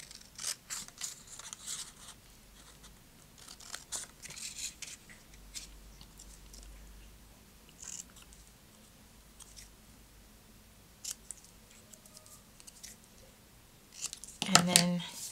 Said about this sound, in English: It's a nice easy shape to cut out.